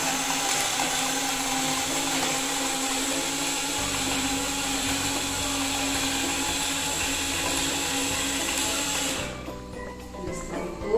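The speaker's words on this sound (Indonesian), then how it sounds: "Blender sampai kurmanya terlihat halus ya." An electric kitchen blender whirs steadily as it purees dates with milk, a loud continuous motor drone that shifts pitch slightly before cutting off near the end.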